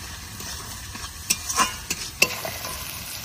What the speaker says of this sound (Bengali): পেঁয়াজটা বেশ ভালো করে ভেজে নিয়েছি। এবার কাঁচা লঙ্কা, শুকনো লঙ্কা বাটা দিয়ে দেবো।